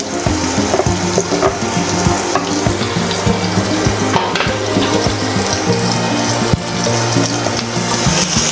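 Chopped onions hit hot oil in a pan while cooking Lahori chanay, giving a loud, steady sizzle and crackle that runs continuously throughout, with no talk over it.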